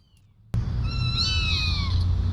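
A person imitates a cat with drawn-out, rising and falling meows, close and clear over a steady low background hum, with no other talk.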